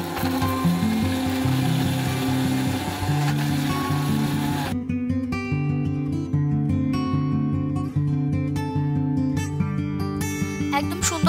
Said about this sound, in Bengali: এবার এই সবগুলোকে ভালো করে মিক্সিতে পেস্ট করে নিচ্ছি।